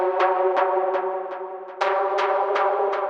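A bright synthesizer lead plays a string of evenly spaced, plucky notes, each with a sharp attack and quick decay, loud and alone.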